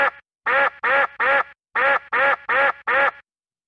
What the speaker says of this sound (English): I'm sorry for all the quacks.